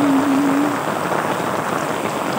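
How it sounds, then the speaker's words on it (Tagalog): Heavy rain pours down in a steady, loud, unbroken hiss close by. A brief low tone sounds at the very start, and no one speaks. "Bumuhos naman ang malakas na ulan."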